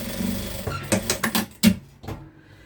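Sewing machine stitching a fabric seam on a stuffed toy, several short bursts of rapid needle clatter with brief pauses between them, close and clear with no talking.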